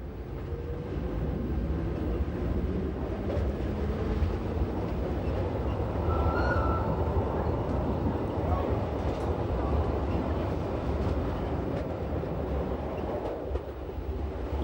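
A Rhaetian Railway train runs along the Albula Line in Switzerland, a steady rumbling roll with faint rail clatter, heard from on board, continuous and moderately loud with no talk.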